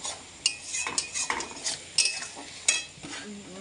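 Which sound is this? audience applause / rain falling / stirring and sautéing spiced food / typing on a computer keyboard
stirring and sautéing spiced food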